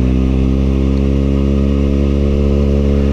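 A steady, continuous electric motor whine from a mini electric toy motorcycle, with a low buzzing hum, constant in pitch and loudness throughout, close and fairly loud.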